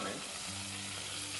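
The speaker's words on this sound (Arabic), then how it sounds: "هلا اللحمه هون تبعنا عم تحمر" Meat browning in a pan during Spanish cooking, a steady loud sizzle of frying fat running through the whole short moment, with faint stirring and no voices.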